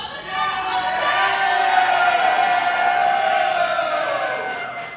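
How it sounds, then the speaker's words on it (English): A wrestling crowd at a women's championship match boos loudly and continuously, a swelling sustained jeer with shouted voices mixed in, filling the arena. "I can't hear myself over the boos"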